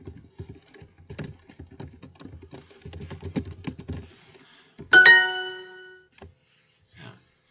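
Someone types a Romanian sentence on a keyboard, producing fairly quiet, rapid clicks for several seconds. A bright, ringing chime then sounds, followed by a couple of isolated taps.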